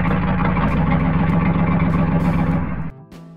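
A monster truck engine roars loudly and steadily, a heavy low rumble that cuts off abruptly near the end, leaving a brief quieter tail.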